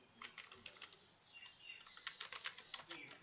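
Quick bursts of light clicking keystrokes on a computer keyboard, faint and close, coming in uneven clusters with brief pauses between them.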